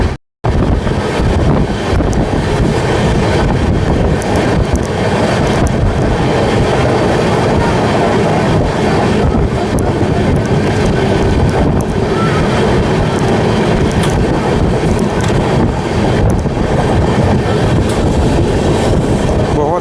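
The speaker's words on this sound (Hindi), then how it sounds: "बहुत ही बड़ा सा शानदार कर्व है जिससे फ़िलहाल अपनी ट्रेन कर्व हो रही है" Jan Shatabdi Express train rounding a long curve between Raigarh and Gondia, a steady loud rumble of wheels and carriages with wind buffeting throughout, no voices.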